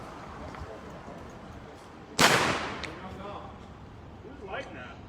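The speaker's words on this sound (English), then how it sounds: "they did the fireworks things when they got excited" A single sharp firework blast bursts out loud near the middle, with a fainter pop after it, over crowd murmur and street noise near the fountain in downtown Olympia during a street gathering.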